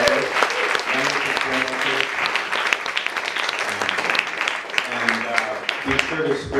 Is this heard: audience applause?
yes